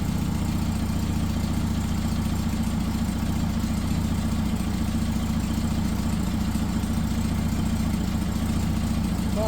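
A rebuilt 60-year-old Porsche 912 engine idles smoothly at a constant, unbroken pitch for the whole stretch, with no one speaking over it.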